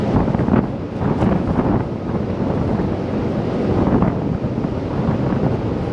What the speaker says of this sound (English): Bit windy up here as well.